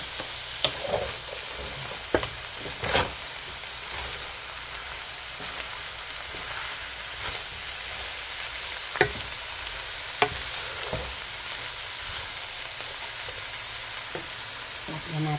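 Soaked bamboo shoots fry in a pan for adobong labong, a steady soft sizzle broken by irregular clacks and scrapes of a spoon stirring against the pan, with no talking.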